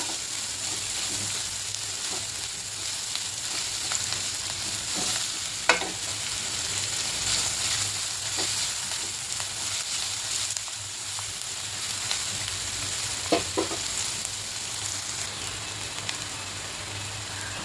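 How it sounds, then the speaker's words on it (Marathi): A finely chopped large onion frying in oil until golden, a constant close hiss and sizzle with occasional spatula clinks and stirring scrapes, no speech. "हा एक मोठा कांदा मी बारीक चिरून घेतला. चांगला परतून घेते तांबूस कलर येईपर्यंत."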